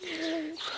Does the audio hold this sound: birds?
yes